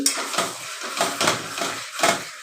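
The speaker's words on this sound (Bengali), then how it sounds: "মাংসটা প্রথমে একটু কষিয়ে নিচ্ছি" Chicken meat sautéed with onion paste and fried potatoes in a pan, heard as a close, rhythmic series of metal spatula scrapes and clanks against the pan, about five strokes in quick succession.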